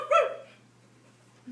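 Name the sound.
actor imitating a dog barking in a play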